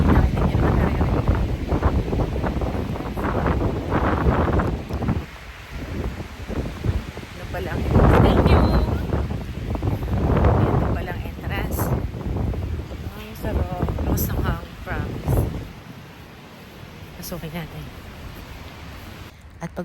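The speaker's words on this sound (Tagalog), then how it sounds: "Sobrang lakas ng hangin." Strong gusting wind on a mountaintop beside a monastery church buffets the microphone in loud rumbling waves, rising and falling throughout, with a voice speaking faintly beneath it.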